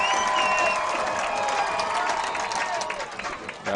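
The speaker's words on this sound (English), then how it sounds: "you're going to hear the crowd going crazy here" A crowd at a high school football game between Carl Albert and Piedmont cheers loudly, a continuous roar of yells and clapping with a few whistles, sustained throughout and easing slightly toward the end.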